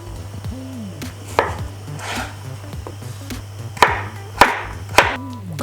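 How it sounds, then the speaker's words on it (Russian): Potatoes being cut into medium cubes with a knife for buckwheat mushroom soup, a handful of crisp, close chops against a cutting board, spaced irregularly and getting firmer toward the end, over a low steady hum. "Картофель нарезаем средним кубом."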